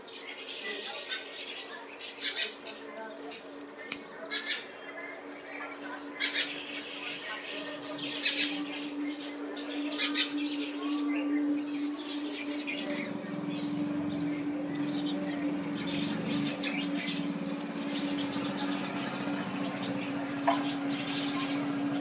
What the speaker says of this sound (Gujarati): મસ્ત મજાના ચકલા ચણ ચણવા આવ્યા છે